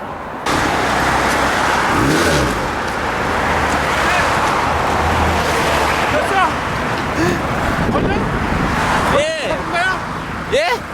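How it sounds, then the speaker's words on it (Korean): A motorcycle engine starts up outdoors, loud and close, settling into a steady running rumble with a few rising revs, while people talk over it. "시동 걸어봐."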